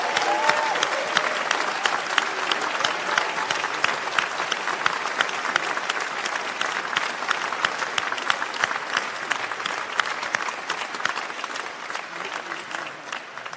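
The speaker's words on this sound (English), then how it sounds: "give one final huge round of applause and well done congratulation whoop to all of our graduates" Sustained applause from a graduation ceremony audience for Lincoln College graduates, a dense, steady wash of many hands clapping at even loudness throughout, with no pauses.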